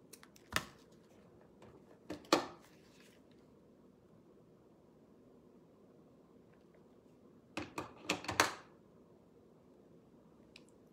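Scissors snipping messy raffia for a painted sunflower bee wood paddle gnome: a single crisp cut near the start, another around two seconds, then a quick cluster of several snips later, close and clear against a quiet room.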